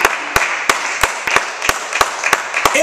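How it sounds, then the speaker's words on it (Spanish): A church congregation claps together in a steady, loud rhythm, about three sharp claps per second, over a sustained musical tone. "Dale un fuerte aplauso a la gloria de Dios"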